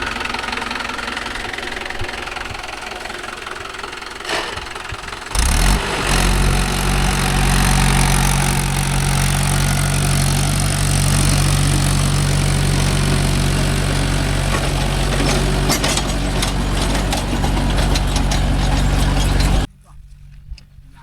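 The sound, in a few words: Mahindra Arjun Novo 605 tractor engine running with plough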